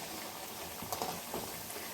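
Rice flour vadai frying in hot oil, a soft steady bubbling sizzle with a few faint crackles, heard close and quiet without talk.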